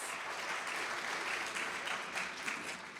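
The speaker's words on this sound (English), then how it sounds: "Give yourselves a warm round of applause." A crowd at the 2025 North American Mayors Summit Against Antisemitism in New Orleans gives a warm round of applause, an even, fairly soft wash of clapping.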